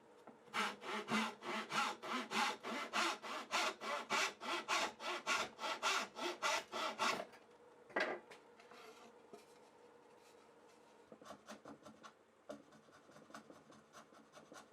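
Fast, rhythmic strokes of a hand saw cutting wood while building a Japanese-style toolbox, about fifteen close, raspy pushes in a row, followed by a few softer scrapes and taps in a quiet room.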